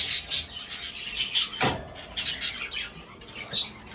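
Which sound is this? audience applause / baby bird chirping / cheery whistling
baby bird chirping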